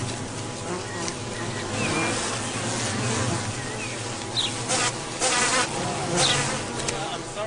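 Bees buzz steadily and loudly up close, a dense droning hum with individual insects zipping past now and then.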